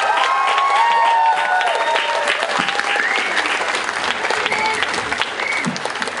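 A large outdoor crowd at Exeter Pride's live stage applauds loudly and steadily, with scattered cheers and whistles rising above the dense clapping.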